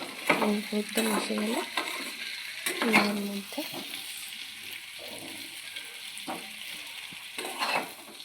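Cumin and coriander powder lightly frying in a pan for a vegetarian potato curry (aloo dum), a soft sizzle with stirring and a few scrapes, a brief voice speaking near the start.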